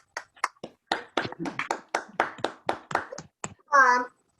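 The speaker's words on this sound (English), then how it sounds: "a round of applause" Sparse applause for graduates at a 2020 ceremony: a dozen or so distinct, separate claps in an uneven rhythm, close and clear against silence. A brief voice sounds at the end.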